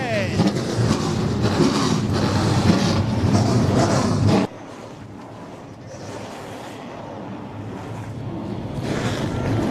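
A field of late model race cars fires up on the front straightaway at Sauble Speedway, a loud dense roar of engines that drops abruptly halfway, then builds again as the engines keep running and rumbling.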